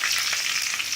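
Curry leaves and popping mustard seeds sautéed in hot oil, a brief, dense, bright crackling sizzle heard close and alone.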